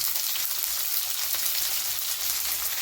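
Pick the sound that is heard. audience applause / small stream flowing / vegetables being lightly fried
vegetables being lightly fried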